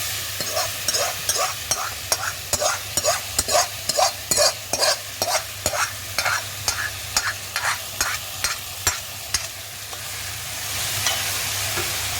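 Vegetables being stirred in cooking masala for veg biryani, a regular run of scraping strokes about twice a second over a constant sizzle, with the stirring stopping near the end while the frying continues.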